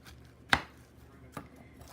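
A knife cuts into a baked vegetable pot pie with a pastry crust: one sharp, crisp crunch near the start, then a softer second cut about a second later, close and alone in a quiet kitchen.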